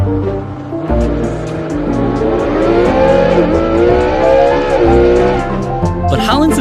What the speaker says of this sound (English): it had the biggest engine out of any car on our list so far